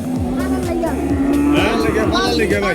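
A cow at a busy cattle market near Aricha moos loudly and repeatedly, long sustained calls close by over a dense crowd murmur.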